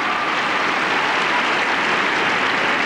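Crowd applause at a women's tennis final fills the whole stretch, a dense steady clapping from a large audience, loud and even throughout.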